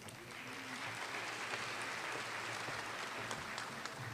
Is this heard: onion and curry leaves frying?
no